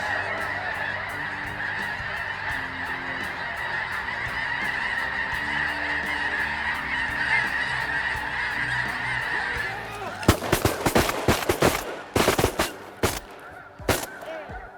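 A large flock of snow geese on an Arkansas hunt honks in a dense, continuous clamor, then several sharp, loud shotgun blasts ring out in quick bursts near the end.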